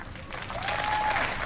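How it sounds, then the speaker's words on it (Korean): A convention crowd applauds a speech in a steady wash of clapping, moderately distant and fairly quiet, building slightly over a brief moment. "사람들이 박수를 많이 치고 있는데"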